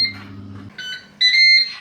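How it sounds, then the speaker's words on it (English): A Ninja Speedi air fryer sounds its finishing alert: a short series of bright electronic beeps, close and clear, ending in a louder sustained tone, with a low hum fading out beforehand. "And we've beeped!"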